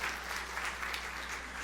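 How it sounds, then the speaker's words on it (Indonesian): A church congregation applauds in a steady, dense burst of clapping that fills the hall, with a low hum under it and no talk. "Tepuk tangan yang meriah untuk kemuliaan."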